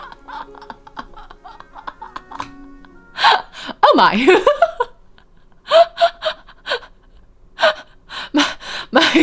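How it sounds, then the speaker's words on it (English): A sudden startled gasp comes from a character in the romance video game Cage of Roses, followed by a voice exclaiming and then bursts of laughter and breathy chuckles. "had both women not been interrupted by the sound of a startled gasp"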